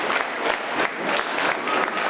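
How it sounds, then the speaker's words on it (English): Packed wrestling-show crowd roaring and clapping nonstop, a dense wall of applause and cheers with rhythmic surges, loud and close all around. "I mean, this crowd tonight is deafening."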